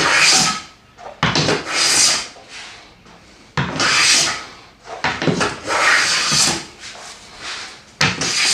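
A blade takes wood shavings while a spice rack is built, with several long, loud rasping strokes separated by brief pauses, heard up close.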